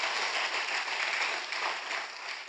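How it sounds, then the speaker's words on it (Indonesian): A church congregation claps together during an Indonesian sermon, a dense, even wash of applause that holds steady from start to finish. "Tepuk tangan yuk sekali lagi yang paling meriah buat Tuhan kita."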